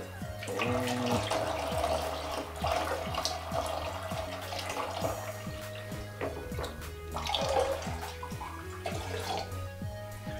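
Water pours steadily into a container while photographic developer is mixed up to about 600 millilitres in a darkroom, a continuous close splashing and trickling flow with faint clinks and no talk.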